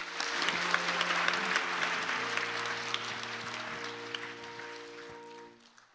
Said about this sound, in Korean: 우리 새 생명 박수로 축복하시겠습니다.